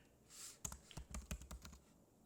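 Quick, light keystrokes on a computer keyboard as a command is typed in a coding session, a short uneven run of close, quiet clicks.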